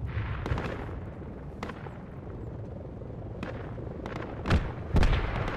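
Bomb explosions in the military shooter Project Reality, a low rumbling battlefield backdrop punctuated by scattered sharp distant bangs, ending with two louder closer blasts.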